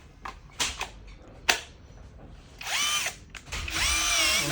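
An 18-volt professional-series cordless drill with lithium batteries whirs up in two short bursts of rising pitch, preceded by clicks and knocks as it is handled; fairly close and alone, with no talk.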